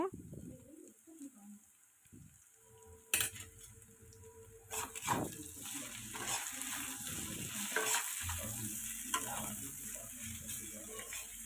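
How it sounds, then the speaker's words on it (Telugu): Bitter gourd fry tossed with coriander powder and chili in a pan: intermittent spoon scrapes and clinks over a building sizzle, with a voice talking softly and birds cooing in the background. "ధనియా పౌడర్ నెక్స్ట్ కారం కూడా వేసుకుని ఒకసారి కలుపుకుంటున్నాను"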